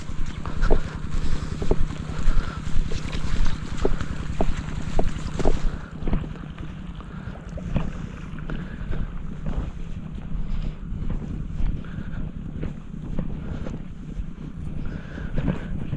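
A boat engine drones steadily with a low, even hum, mixed with gusty wind buffeting the microphone and faint knocks.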